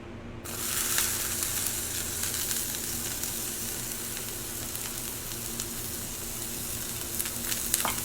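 Onions sizzle and fry in hot oil, a steady crackling hiss that starts abruptly and continues evenly at close range.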